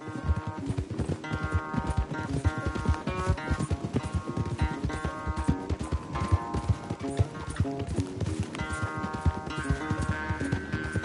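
Rapid hoofbeats of a horse galloping during a race in the video game Red Dead Redemption 2, a steady driving clip-clop over a game music score throughout.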